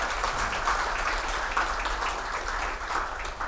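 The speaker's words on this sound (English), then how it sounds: "please give a big round of applause to Mr. Vaibhav Kaul." Audience applause at a business conference session on combating fraud with AI and automated controls, a dense, steady wash of clapping that holds evenly throughout.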